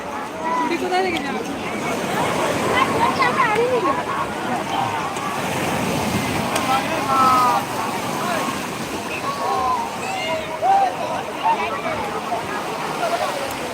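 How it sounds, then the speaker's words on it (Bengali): Sea waves roll and break on Digha beach in a steady, continuous wash of surf with rising surges, with voices and beach crowd noise mixed in throughout. "আজকে কিন্তু সমুদ্রের ঢেউ মোটামুটিভাবে ভালোই রয়েছে"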